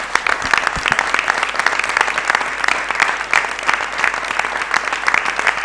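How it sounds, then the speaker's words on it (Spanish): A crowd at an outdoor political event in San Juan, Argentina, breaks into strong, sustained applause, with dense rapid clapping and sharp individual claps standing out throughout. "Por eso pido para las que están en San Juan y para quienes me están acompañando acá un fuerte aplauso."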